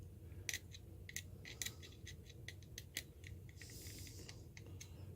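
Small screws being tightened into a Logitech G500s gaming mouse during reassembly, heard as a run of faint, close clicks and scratchy ticks at irregular intervals over a low background hum.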